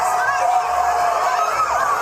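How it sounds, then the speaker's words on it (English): Crowd at the Royal Wedding procession cheers and whoops in a dense, steady roar, with bright whistles and shouts riding on top, loud and continuous. "The crowd is really loving this."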